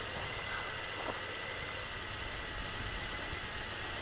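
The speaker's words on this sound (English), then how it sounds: "I'm slowly reducing throttle, and that thing loves to stay in the air." MJX X101 quadcopter drone hovering and slowly descending at low throttle, a steady broadband propeller whir with a continuous motor hum that holds level throughout, no talk.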